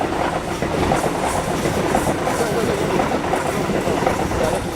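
A Sydney train passes along a railway line with a loud, continuous rumble and clattering wheels that hold steady throughout, close by and without breaks.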